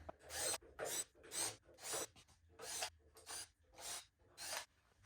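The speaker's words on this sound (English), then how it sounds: "there's about 14 screws that's got to come out of here. So we're going to start taking these out." Screws being worked out of a Vendo 44 Coke vending machine, giving repeated rasping, scraping strokes in a steady rhythm of about eight bursts, close and fairly loud with no talking.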